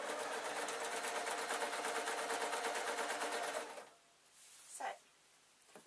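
A sewing machine hums and clatters at a fast, even stitching rhythm for a few seconds, then stops, leaving quiet handling noises.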